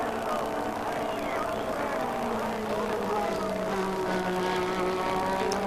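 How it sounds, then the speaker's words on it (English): 1985 Formula 1 race cars overtaking and slipstreaming at speed, a steady high engine whine with rising and falling pitch that continues throughout, with commentary talking over it. "And again, Keke slipstreaming Nelson Piquet."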